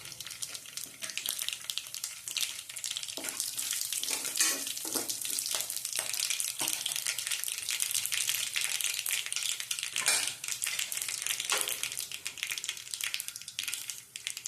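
Bay leaf, star anise and cloves fry in hot oil for an aloo sabji, giving a steady, fairly quiet sizzle with occasional crackles and stirring clicks throughout, no talking.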